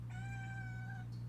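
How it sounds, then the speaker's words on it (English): A cat gives a single drawn-out meow, fairly clear and close, over a steady low electrical hum. "there's a kitty"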